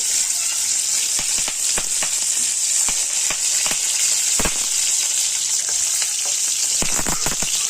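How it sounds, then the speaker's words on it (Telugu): Tempering spices, dried red chilies and curry leaves fry in leftover oil in a kadai, giving a steady loud sizzle broken by sharp, irregular crackling pops, close by with no talking. "ఇప్పుడు అదే కడాయిలో ఉన్నగా మిగిలిన ఆయిల్లోనే మళ్ళీ పోపు దినుసులు వేసుకోవాలండి"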